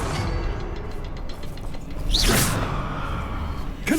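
A Revelio spell cast in Hogwarts Legacy: a rising magical whoosh swells in the middle of the clip over a steady bed of game ambience, then settles back.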